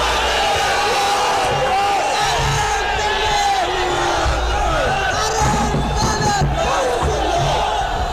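A large crowd at an Ahmadiyya-related gathering chants and shouts slogans in unison, a dense, loud, continuous roar of massed voices close by.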